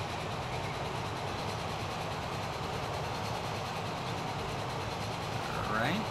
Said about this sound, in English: We're gonna stop and let the farm train by first.